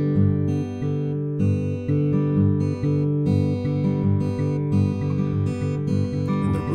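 A guitar is fingerpicked in a pinch pattern, with bass notes and treble notes plucked together and the last inside note left out, giving a steady bouncy rhythm of clear notes played alone at close range.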